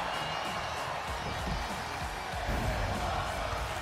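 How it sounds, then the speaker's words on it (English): Arena crowd in WWE 2K23 cheering and roaring steadily throughout, a dense wash of voices with a slight swell near the end, no clear individual speech. "The crowd still chanting, "This is awesome," in the background"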